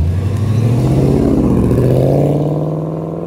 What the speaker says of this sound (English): the 5-liter V8 naturally aspirated engine